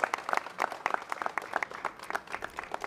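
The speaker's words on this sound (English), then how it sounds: "Let's give a round of applause" Applause at a transit agency news conference, a brief, moderate burst of scattered clapping from a small audience.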